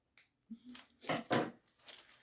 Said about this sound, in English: So let me cut off my thread.